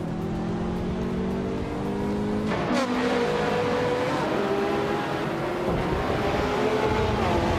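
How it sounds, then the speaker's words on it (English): Racing engines from a 2016 Opel Astra TCR and a close pack of rival cars in a racing video game, a loud continuous droning whine that shifts pitch through gear changes and revs, with overlapping engine tones throughout. "Architect is driving a 2016 Opel Astra TCR."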